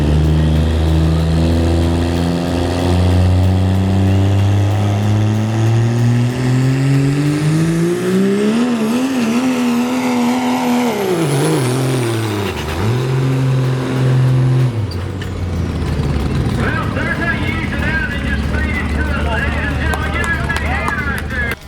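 A Thoroughbred Diesel Dodge 3.0 diesel pulling truck roars loudly through a pull, engine pitch climbing and dipping as it labours, then a harsher, noisier stretch toward the end, with a voice talking over it throughout.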